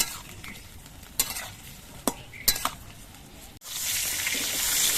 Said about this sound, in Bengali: তার জন্য আমি দুবারে পটলগুলো ভেজে নিচ্ছি